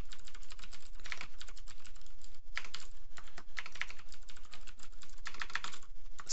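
Code being typed on a computer keyboard during Unity game development, a steady close run of rapid key clicks with brief pauses, no speech.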